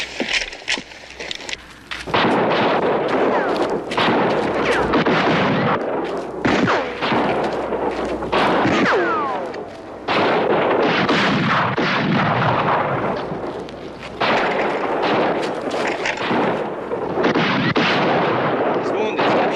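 Heavy gunfire in a thriller film shootout at night, rapid dense volleys of shots cracking almost continuously and loudly, with shouting voices mixed in beneath the barrage.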